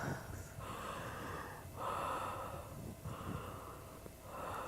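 Group of people doing conscious connected breathwork, rhythmic heavy breaths with gasps and snorts cycling in long inhale-exhale waves, close and steady with no talk.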